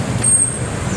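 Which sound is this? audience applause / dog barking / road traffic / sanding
road traffic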